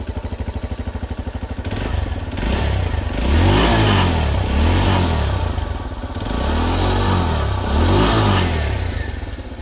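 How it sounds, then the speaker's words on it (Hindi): TVS Star City+ BS6 fuel-injected commuter motorcycle idling with a close, steady exhaust putter, then revved several times in rising and falling swells before settling back, loud and with no talk over it. "तो हम अभी इसे ज़रा ये सुन लीजिए एग्जॉस्ट को।"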